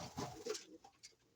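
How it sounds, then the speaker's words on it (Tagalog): Pigeons coo softly nearby in a few short throaty bursts, close and quiet with brief gaps between calls and no talk. "yung ating mga ibon"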